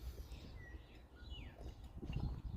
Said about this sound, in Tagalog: nakikinig tayo sa mga ibon